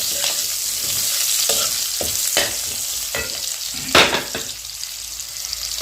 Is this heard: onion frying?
yes